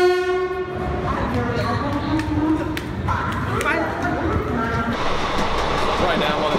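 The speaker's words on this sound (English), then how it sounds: "the train's finally going to arrive" Passenger train arriving at a busy station in India on the Agra to Jaipur route, a long horn blaring at the start over rumbling wheels and platform crowd noise, with people talking throughout.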